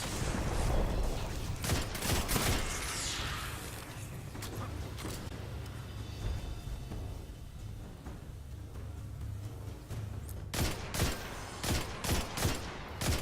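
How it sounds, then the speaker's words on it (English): Scout rifle firing in Destiny 2: sharp, fairly close single shots fired in quick rhythmic bursts, a cluster early, then a quieter rumbling stretch before another rapid volley near the end. "This is where the scout rifle comes into its own."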